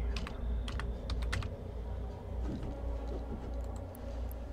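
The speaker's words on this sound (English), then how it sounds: "You type it in there, so yeah." Rapid keystrokes on a computer keyboard, typing a short word into a search field, with clusters of clicks at the start and sparser taps later over a steady low hum.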